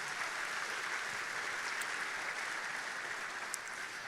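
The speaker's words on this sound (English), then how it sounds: "Another round of applause for those kids" An audience applauds the children who sang the anthem at a school staff kickoff event, a dense, even wash of clapping from a large crowd that holds steady throughout.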